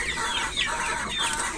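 Chickens clucking steadily and close by, a dense overlapping flock of hens kept for breeding, with no talk over them.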